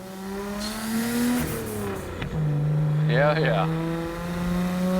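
Nissan Skyline GT-R R34 fitted with a Tomei exhaust, driving with windows down: a steady engine drone with rising and falling pitch as it pulls and shifts, loud and close, with a brief voice over it.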